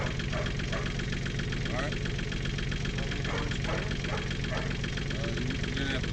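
A tractor engine idles loudly and steadily with a rough, knocking chug while working a post hole auger, as people talk over it.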